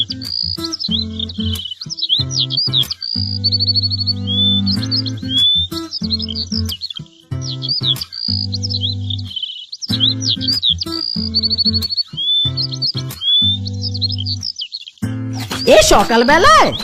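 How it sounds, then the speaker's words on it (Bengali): Birds chirp busily in a Bengali cartoon, in high, rapid trills that repeat in bursts, while a low steady hum and occasional voices run beneath them. "পাখির কিচিরমিচির শব্দ শুনে আমার ঘুমটাই ভেঙে গেল"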